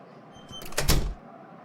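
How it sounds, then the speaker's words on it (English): A restaurant door is being locked: one short, close clack and rattle of the door and latch, preceded by faint scraping and set against quiet room tone. "She is locking the door."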